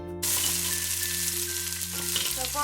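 Onions and a tomato hit a warmed pan, producing a steady, close hissing sizzle with a low tonal hum underneath and no talking.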